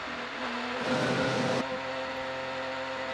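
IndyCar race cars at Iowa Speedway roar through a short, loud whooshing pass that swells and then drops back to a steadier high-pitched engine drone. No voices are heard.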